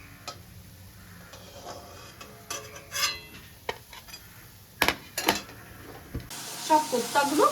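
Quiet sizzling of chhana koftas frying in oil and ghee over a medium-to-low flame, with occasional clinks and scrapes of a utensil stirring; a louder sizzle swells near the end.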